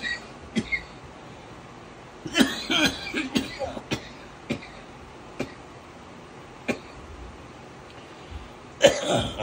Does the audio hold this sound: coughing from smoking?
yes